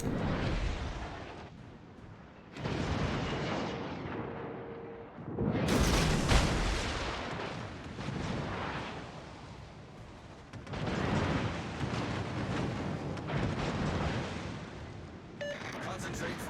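Naval gunfire from an enemy destroyer in World of Warships, with heavy rumbling booms and shell impacts rolling in waves across a long stretch of battle noise, interrupted by brief lulls while voices talk over it.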